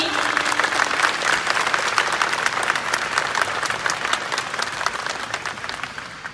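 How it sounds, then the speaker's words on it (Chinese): Applause from an audience at an airline company event with Taiwan's president, a dense burst of clapping that stays full and steady, then tapers slightly near the end. "掌声欢迎！"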